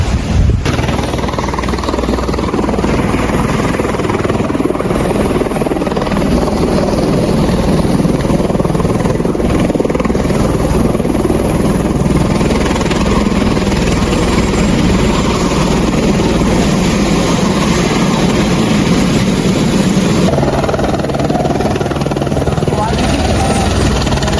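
A loud helicopter engine thrums and whines continuously nearby at a helipad on the Amarnath Yatra route via Pahalgam, its rotor roar steady and overpowering, with speech buried beneath.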